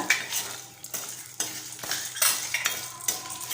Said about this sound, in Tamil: இப்போ இது எல்லாத்தையும் சேர்த்து வறுத்துக்கலாம் பருப்பெல்லாம் கொஞ்சம் செவக்க வறுபட்டு வரட்டும் அதேமாதிரி மிளகாயும் கொஞ்சம் ரோஸ்ட் ஆகட்டும்